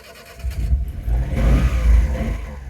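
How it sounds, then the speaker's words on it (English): A mini truck's engine cranks and catches, then revs up in a loud, close, low rumble that swells twice on a fine day outdoors. "It's such a beautiful day, we're gonna take the mini truck."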